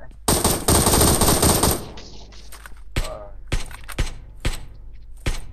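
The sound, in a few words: gunfire in a video game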